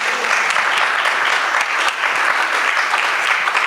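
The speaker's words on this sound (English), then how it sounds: "Again, let's give a big round of applause." An audience claps for community leaders at an ISKCON Chicago appreciation gathering. Dense, steady applause fills the room from start to finish with no talking over it.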